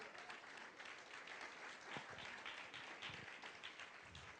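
A church congregation applauding after a sermon, steady dense clapping from many hands, moderately distant and continuous throughout with no talk.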